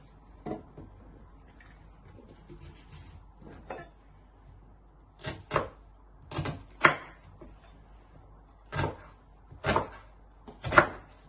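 A knife chops an onion on a board in irregular, sharp taps, sparse at first and then grouped in pairs and a triplet, close and fairly quiet in an otherwise still kitchen.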